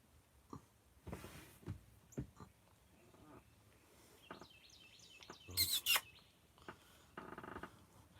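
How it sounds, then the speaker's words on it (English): A bird calls outdoors in a few faint, high chirps partway through, among soft rustling and scattered background noises. "I don't even know what kind of bird that is."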